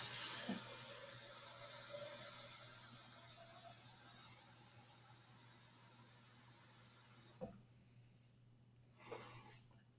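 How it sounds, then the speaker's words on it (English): Water runs from a tap into an old pickle jar in a steady, hissing stream that slowly changes pitch as the jar fills, then cuts off and leaves a few small clinks and splashes near the end. "So I'm going to fill my jar up with water."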